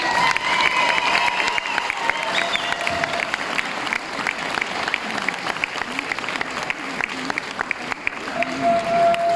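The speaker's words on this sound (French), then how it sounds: "je demande d'applaudir très fort Roxane Servette, s'il vous plaît." An audience at a joint political meeting in June 2022 applauds loudly, with dense, steady clapping mixed with cheers and shouts that lasts the full nine seconds.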